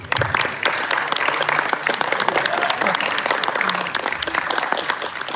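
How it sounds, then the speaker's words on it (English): Applause from a crowd at a youth armwrestling event, dense steady clapping lasting several seconds with a few voices mixed in. "Applause."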